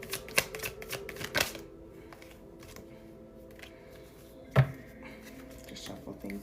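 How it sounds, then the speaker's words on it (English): Tarot cards being shuffled during a live reading: a few quick riffling bursts near the start, then quieter handling and one sharp card snap, close and fairly soft. "I just want to do a quick shuffle here"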